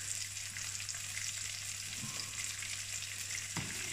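Chopped garlic sautéing in a small frying pan for a chicken dish, giving a steady close hiss with a constant low hum beneath and two brief clinks of a utensil against the pan.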